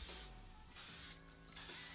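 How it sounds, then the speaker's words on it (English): Heat protectant spray misted onto the top section of hair while styling beach waves: two quick pressurized hissing bursts, close and fairly soft, separated by a brief quiet pause. "with that heat protectant spray, I'm just going to go ahead and spray this all over the top section"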